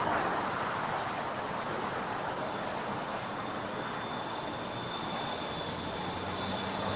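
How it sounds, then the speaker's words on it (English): A Japan Airlines Boeing 777-300ER jet on arrival at LAX from Tokyo, a continuous broad rushing roar holding steady for the whole stretch, with a faint high engine whine running through it and no voices. "777-300ER coming in from Tokyo. Again, Flight 62 on Japan Airlines."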